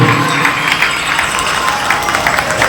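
An audience at a religious katha gathering claps together in a dense, steady round of applause that holds loud and continuous throughout.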